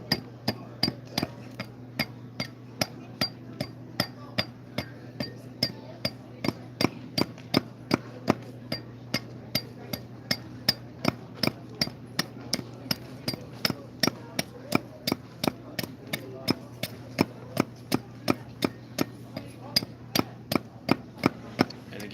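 Hand carving of a wooden bowl's rim with a bevel-edged tool at a mall demonstration, a steady rhythm of sharp knocking strikes, roughly one per half second, close and distinct over a low background hum.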